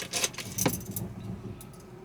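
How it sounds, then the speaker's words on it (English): Car keys jangle close by as they are pushed toward the ignition, a bright metallic rattle in a couple of quick bursts that fades into quiet cabin ambience. "I'm just going to put my keys in"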